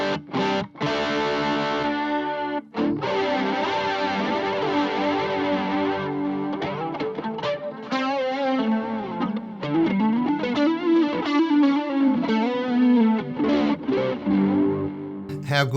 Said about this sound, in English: How good is the chorus ensemble from Past Effects?